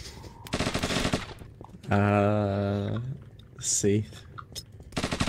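MP5 submachine gun fire in a video game, with short bursts of rapid shots at the start and end around a sustained tonal game sound, and a brief spoken word in between.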